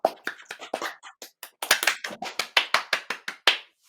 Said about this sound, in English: I'll clap for myself.